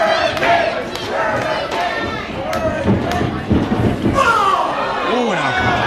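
A live wrestling crowd in Meadville, Pennsylvania roars and shouts steadily throughout a match, a dense, loud wall of cheering and yelling with swelling bursts near the end.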